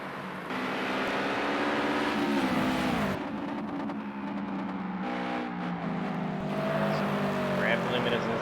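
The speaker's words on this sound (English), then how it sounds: "These Cosworths make a lot of noise." Cosworth-engined Toyota 86 race cars howl around the Brands Hatch GP circuit, engines droning loud and near with gear changes and a pitch drop as cars pass, under continuous race commentary.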